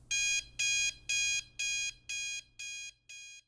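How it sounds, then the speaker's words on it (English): An alarm clock rings in seven evenly spaced, loud electronic bursts, each about a third of a second long with short gaps, gradually fading slightly toward the end. "Then the alarm rang."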